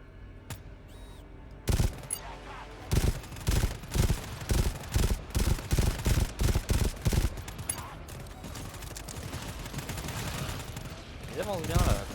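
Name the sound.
sentry turret gunfire in video game GTFO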